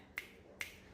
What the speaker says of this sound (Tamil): சொடக்கு